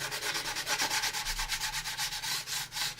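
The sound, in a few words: sanding a plastic model kit part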